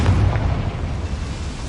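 Confringo fire spell explosion in Hogwarts Legacy, a loud, close, rumbling blast whose boom fills the whole short moment and decays slowly, with no talk over it.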